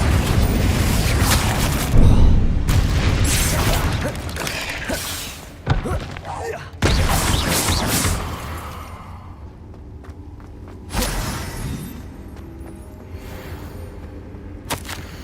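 Repeated heavy spell explosions and thuds in Hogwarts Legacy, about five loud booming blasts separated by quieter rumbling stretches with mechanical clanks, close and forceful, tailing off into softer crackle.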